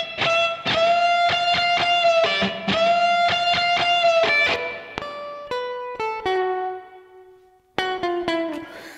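Dry, unprocessed electric guitar solo played through a Guitar Rig 5 Player setup with no effects, a run of loud, clearly picked notes in quick succession, a few held and left to decay before a brief pause and more picking.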